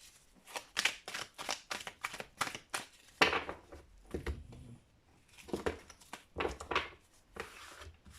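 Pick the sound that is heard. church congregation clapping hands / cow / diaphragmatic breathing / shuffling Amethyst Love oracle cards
shuffling Amethyst Love oracle cards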